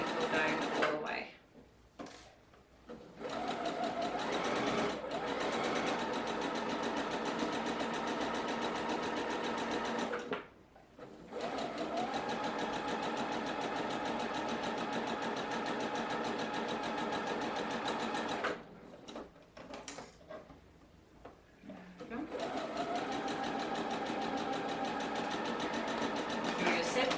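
A sewing machine runs in long steady bursts stitching a side seam on a peasant top, its fast even rattle close and loud, stopping briefly between runs while a person talks softly.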